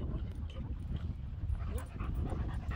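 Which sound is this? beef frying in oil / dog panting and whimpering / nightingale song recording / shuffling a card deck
dog panting and whimpering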